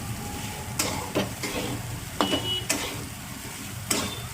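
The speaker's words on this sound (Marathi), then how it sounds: "बघू शकता छान खिचडी भाजत आली" Sabudana khichdi of soaked tapioca pearls with crushed peanuts and salt, stirred and roasted in a pan over a steady low sizzle, with several sharp scrapes and taps of the spoon against the pan.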